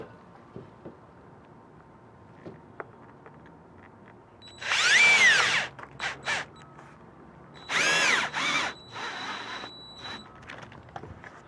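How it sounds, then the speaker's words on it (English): A power drill whirs in two short, loud bursts as it drives a stainless steel self-drilling screw through a railing cover, with a few brief trigger blips between them in an otherwise quiet room. "This is a stainless steel self-drilling screw, so it's designed to go right through this nice and easy."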